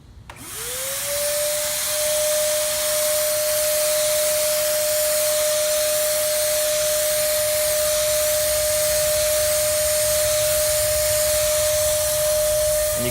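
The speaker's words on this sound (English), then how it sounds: "what I'm going to do is just heavily spray it and push it toward an edge" A heavy spray of liquid mix, a carbon coating chemical, goes onto a surface as a steady, loud, continuous hiss with a constant whine from the sprayer running underneath, with no talking.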